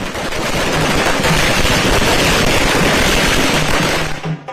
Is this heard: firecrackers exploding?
yes